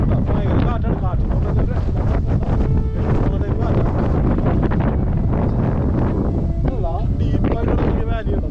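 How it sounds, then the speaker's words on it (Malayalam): Strong wind buffets the microphone on an open hilltop during an off-road jeep trip to Kudajadri, a constant loud rumbling roar that runs the whole time, with people talking faintly underneath. "കാറ്റാണ്, കാറ്റ്"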